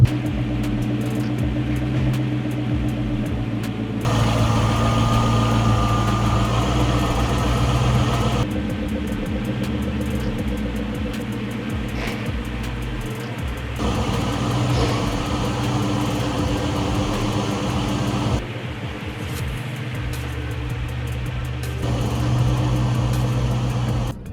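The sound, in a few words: 2003 Ford SVT Cobra engine idling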